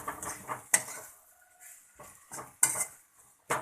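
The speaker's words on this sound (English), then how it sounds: "If I mix this well, potato palya is ready for instant masala dosa." A spoon scrapes and clinks in a pan as potato palya is mixed with chopped coriander. The metallic taps and stirring scrapes come close and in short bursts, with quiet pauses between them.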